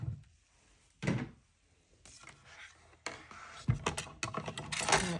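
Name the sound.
die cut machine being moved into place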